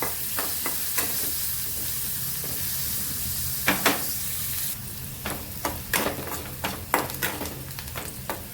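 Onion sizzles in hot oil as it fries toward reddish brown, a constant hiss broken by scrapes and clacks of stirring that grow more frequent toward the end.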